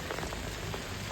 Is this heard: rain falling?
yes